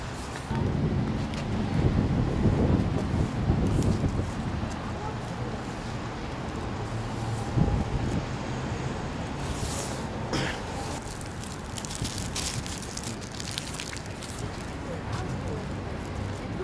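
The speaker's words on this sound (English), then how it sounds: "the wind's coming from this way" Outdoor wind buffets the microphone in a steady rumbling roar throughout, with classroom voices talking over it.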